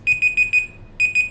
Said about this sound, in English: I think that's my web-based alarm.